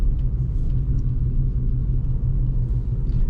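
A 2007 Toyota Highlander hybrid pulls away gently through snow, its low, steady road rumble and muted engine drone filling the cabin evenly at a close, moderate level with no voices.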